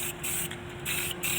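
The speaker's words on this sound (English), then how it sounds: "I kind of do the whole on and off method with the spray can." A spray paint can sprays onto a lowboy trailer in short on-and-off bursts, about four hisses separated by brief pauses, close and fairly quiet over a faint steady hum.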